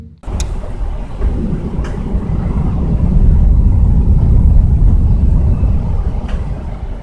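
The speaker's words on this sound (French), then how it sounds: "ce que vous venez d'entendre, c'est un grondement" Deep, rolling thunder from a cold-air-mass storm trailing a strong windstorm over Amiens, a long low rumble that swells midway and stays steady throughout, heard alone with faint crackles.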